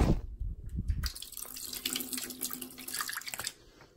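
Water spurting and splashing out of an opened tofu package, a close, lively wet gush with small drips and splatters lasting several seconds before dying down, with no voices.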